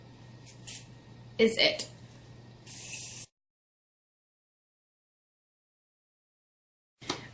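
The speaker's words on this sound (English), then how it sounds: "I will set my makeup with the Morphe Continuous Setting Spray" Morphe Continuous Setting Spray misted onto a face in a few quick hissing bursts, the longest about half a second, mixed with soft handling noises and a brief spoken phrase before silence.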